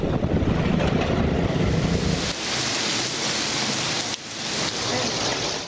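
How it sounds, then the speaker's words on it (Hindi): Rain falls in Lahore amid cold, strong winds, a dense, continuous wash of noise with gusty low rumble, loud and unbroken with slight dips in intensity. "कुछ देर बाद बारिश भी शुरू हो गई।"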